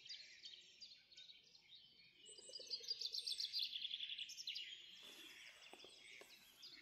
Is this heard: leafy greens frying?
no